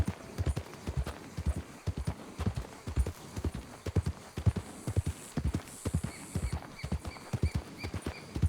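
A horse's hooves clip-clop at an even walking pace in Red Dead Redemption 2, a steady stream of crisp, close thuds with a faint high tone drifting in the background.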